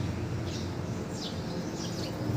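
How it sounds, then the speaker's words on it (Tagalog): Several birds chirp and call in the early morning in a rural hillside setting, faint high calls scattered over a steady low background hum, with no voices. "Nindot gayud kaayo ang atubang adlaw kung mabati nato ang klase-klaseng mga huni sa mga langgam"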